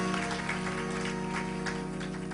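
Audience applause for a tribute performance, a dense steady wash of clapping that fills the whole stretch over a low sustained musical hum.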